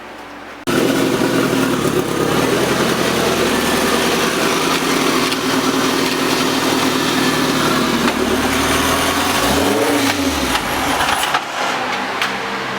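A K24-swapped Toyota MR2 with a dog box runs in second gear, its engine holding a loud, steady drone close by with a brief swell of pitch near the end and no talking.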